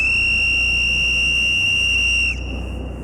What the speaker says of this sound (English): I'm about to blow the storm whistle